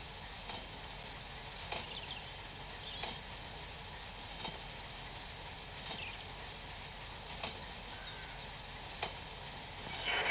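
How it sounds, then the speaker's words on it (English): A freight train pulls out of a rail yard in the Train Sim Pro USA game, giving a steady low rumble with a regular series of faint clicks and knocks from the wheels over the rails, fairly distant, with no talking. "there's a freight train leaving the train yard"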